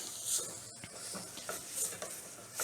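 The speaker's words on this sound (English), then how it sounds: "I'm gonna stir it up for a minute just to, I guess, toast it" Dry quinoa is stirred in a hot pot to toast it, with steady close scraping and light rattling of grains, a faint hiss underneath, and no voice.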